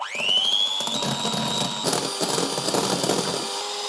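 An electric mixer whisks egg whites, its motor whining up to a high steady pitch and then running continuously with slight rattling from the beaters in the bowl.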